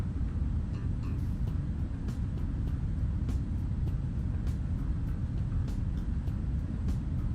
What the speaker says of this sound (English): I turned the airplane down a little bit